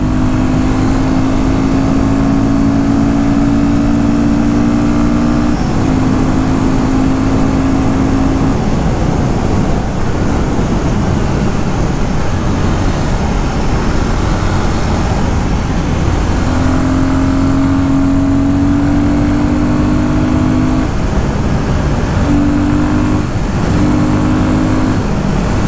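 A Royal Enfield Guerrilla 450 motorcycle engine roars loud and close as it accelerates, with rising and falling tonal whines and constant wind rush throughout.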